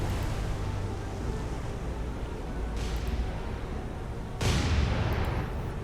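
Naval cannons on a cruiser fire in a War on the Sea battle, with two sharp booms about two seconds apart cutting through a steady roar of wind and engine rumble.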